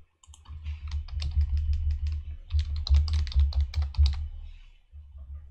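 Rapid typing of code on a computer keyboard, close and clear, in two steady bursts of keystrokes separated by a brief pause, then stopping near the end.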